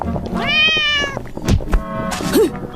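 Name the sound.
cat meowing in animated story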